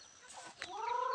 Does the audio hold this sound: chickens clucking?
yes